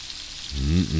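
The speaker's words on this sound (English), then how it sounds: "take all this chili and start frying it and making bread with it." Brief sizzle of chili frying in the space station game Space Station 13, a soft crackling hiss rising in the second half of a one-second moment, alone without talk.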